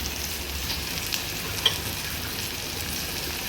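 Onion and garlic fry in a pan with a soft, continuous sizzle and a faint hiss, heard up close and steady with no talking.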